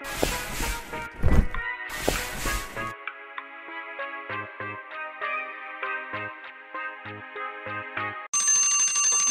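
A phone alarm plays a bright, repeating electronic chime melody of short tonal notes with no voices, briefly preceded by louder clattering sounds.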